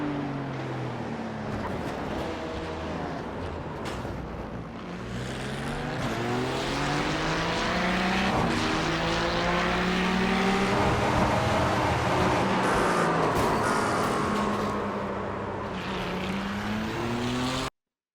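Race car engine in the iRacing sim game, loud and continuous, rising and falling in pitch through gear changes and braking with brakes locked up, steady throughout without talk.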